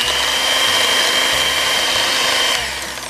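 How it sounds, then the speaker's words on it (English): An electric hand mixer whirs steadily as it beats an egg into pumpkin spice pound cake batter, a loud continuous motor hum that trails off slightly at the end, with no talking. "And beat this till you can no longer see the yellow of the yolk."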